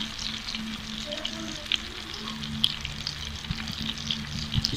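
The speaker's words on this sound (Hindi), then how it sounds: "इसको चारों तरफ से अच्छी तरह जो फ्राई कर लेंगे।" Stuffed tinda frying in a pan, a quiet steady sizzle with light crackles and occasional soft knocks from turning the pieces.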